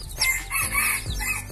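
Newly hatched hybrid jungle fowl chicks and their mother hen make close, overlapping calls: high thin peeps mixed with lower clucking, continuous and fairly loud.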